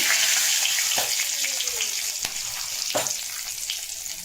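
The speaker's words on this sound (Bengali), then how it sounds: "এবার আমি দেবো গরম মশলা ফোড়ন লঙ্কা ফোড়ন একটা তেজপাতা" Whole garam masala spices, chilli and a bay leaf hit hot oil and sizzle loudly and steadily up close, with a few sharp crackles and pops along the way.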